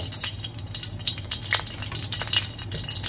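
Cooking oil sizzles in a wok with a steady, crackling hiss and a few light scraping clicks.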